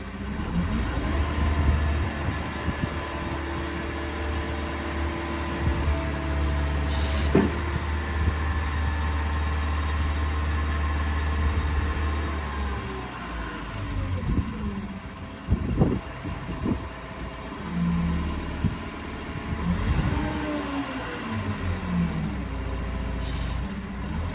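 An excavator's engine drones continuously with a steady rumble, while its hydraulics whine, rising and falling as they move fully up and down, with occasional clunks and hisses marking the movements.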